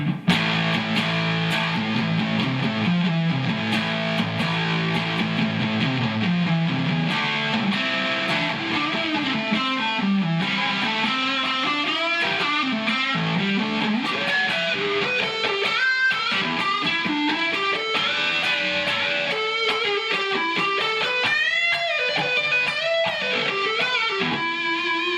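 A Fender Telecaster FSR electric guitar with a mid boost plays through distortion overdrive, with sustained chords and melodic bends that ring out alone and fairly loud without any talking.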